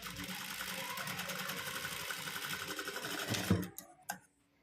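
A sewing machine stitches fabric for piping with a special presser foot, a fast steady mechanical whirring chatter close by that runs for several seconds, then stops with a couple of clicks.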